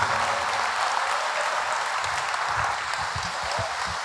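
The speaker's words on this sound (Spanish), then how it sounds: "Bueno, fuerte el aplauso para Carlos Tomada." An audience at a lecture event applauding, a steady wash of many hands clapping at moderate distance, even and unbroken, with faint low murmurs underneath toward the end.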